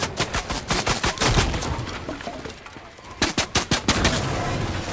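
Rapid bursts of gunfire from a shooter video game, with automatic volleys crackling in dense clusters, then a brief lull before another close, loud string of shots.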